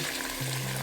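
Hot water is poured into a pot of fried potatoes and tomatoes for Kazakh-style pelmeni, giving a steady hiss and rushing splash with a low sizzle beneath.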